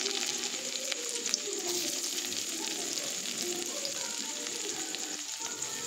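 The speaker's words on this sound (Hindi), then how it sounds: "कड़ाई तेल गरम करे नियेछि, जिरे आर लंका फोड़न दिये पेंयाजगुलो भालोभावे भेजे नेब" Onions frying in hot oil with cumin seeds and chili in a wok, a steady close sizzle with faint crackles and occasional stirring, no voices.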